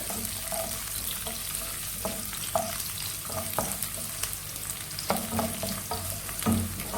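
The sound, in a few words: frying and stirring sliced garlic for pickle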